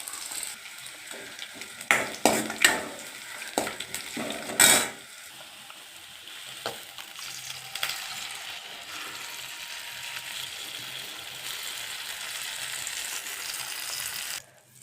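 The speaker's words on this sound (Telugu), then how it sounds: "పెరుగు చట్నీకి ఆయిల్ వేసి వేడెక్కాక పోపు గింజలు వేసి ఒక ఎండుమిరపకాయ, ఒక చిన్న ఎర్రగడ్డ, 2-3 పచ్చిమిరపకాయలు వేసాను" Mustard seeds, a dried red chilli, a small onion, green chillies, coriander and curry leaves tempered in hot oil for a village-style curd chutney, with crackling bursts early on that settle into a steady, moderate sizzle.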